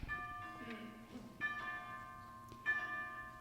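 College chapel bells ring out in several sustained, resonant strikes with long ringing tones, distant and moderately loud over a faint background murmur.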